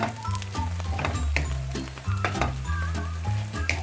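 Dry fruits are stirred into makhana halwa frying in a pan, with continuous sizzling and a series of clicks and scrapes from the spoon close up, giving a busy, uneven rhythm.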